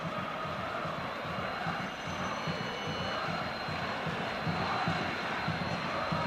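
Corinthians fans pack Morumbi stadium, and their roar forms a distant, steady crowd rumble that swells slightly in places.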